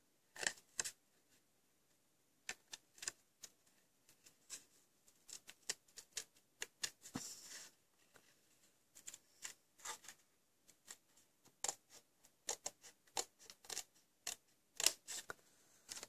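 Scissors snip through card stock for a handmade card, cutting in sections: a series of crisp, close clicks and slices in irregular bursts, with short quiet pauses between runs and no voices.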